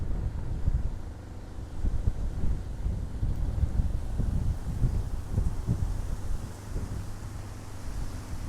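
Gusty wind buffeting a microphone outdoors in a hayfield, a low rumbling roar that swells and eases, with no voices.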